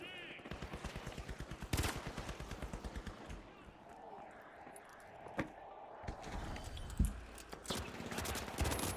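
Rapid bursts of FAMAS fire in the shooter The Finals rattle out in quick rhythmic volleys, with scattered single shots, impacts and other game effects following, while a voice talks underneath.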